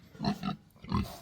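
A pig on a farm gives three short, low grunts, two close together and then one after a pause, heard close and alone.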